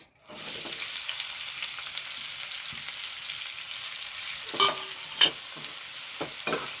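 Onions sizzling in a hot pan for jackfruit biryani, a continuous bright frying hiss that starts abruptly, with a few sharper clinks and stirring scrapes toward the end.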